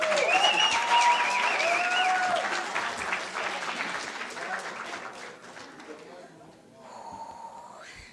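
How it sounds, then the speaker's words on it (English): Audience at a teaching and learning festival claps after a live song, the applause loud at first and fading, with whoops or squeaky tonal sounds drifting over it and a voice near the end. "Another round of applause, ladies and gentlemen."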